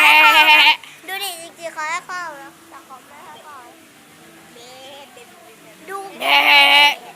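Sheep at a farm bleat loudly at the start and end, with a person talking in between.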